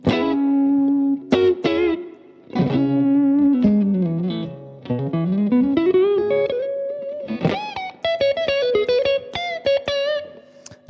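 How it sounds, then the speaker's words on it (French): Electric guitar played through a Mooer pedal with a plate-type reverb, sustained bent and sliding notes and chords with a gritty overdriven tone and lingering reverb tails, loud and alone. "Donc là, il y a une petite reverb type plate."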